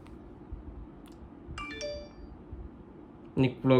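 Phone notification chime during a Big Ticket lottery purchase: a short, clear electronic ding of a few bright tones over quiet room noise, followed by someone beginning to speak.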